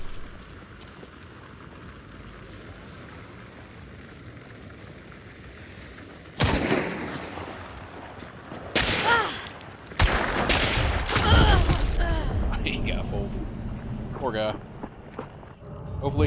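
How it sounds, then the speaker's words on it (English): Gunshots from someone shooting in a video game burst out after a quiet stretch, loud sharp cracks in clustered volleys mixed with rushing noise, while voices chatter underneath. "somebody's shooting at the solo"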